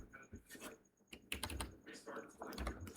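Computer keyboard keys tapped in short irregular bursts, close and faint, with some speech mixed in.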